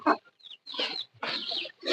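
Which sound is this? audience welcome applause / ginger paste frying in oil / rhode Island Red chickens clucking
rhode Island Red chickens clucking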